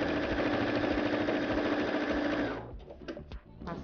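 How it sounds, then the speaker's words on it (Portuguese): A sewing machine stitches a seam on fabric for a baby carrier or pet harness, a loud steady motor whir that stops after about two and a half seconds, followed by a few handling clicks and knocks. "e vou passar uma costura aqui"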